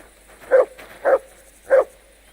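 Mutt, a dog in the video game Kingdom Come: Deliverance II, gives three short, evenly spaced barks, clear and close, with nothing else around them.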